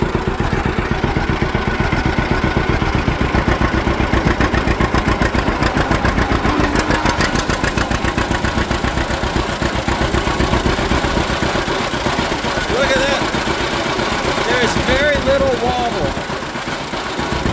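A John Deere A tractor engine runs in sixth gear with a loud, steady, rapid chugging beat, close by and continuous for the whole stretch, with a voice talking over it briefly.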